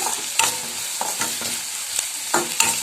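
Onions frying in a pan for gobi manchurian, a steady close sizzle broken by several sharp scraping stirs of the spatula spaced roughly evenly, with no voices.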